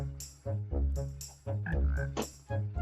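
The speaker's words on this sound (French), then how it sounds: "Œuf d'apparition de grenouille." A frog released from a spawn egg in a video game croaks in low, repeated bursts, four or five evenly spaced calls close and clear with no talking over them.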